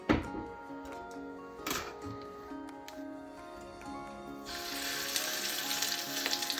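Lamb sears in a tall oven-proof dish, a soft close sizzle with a few dull knocks early on, then a brighter, louder frying hiss building toward the end.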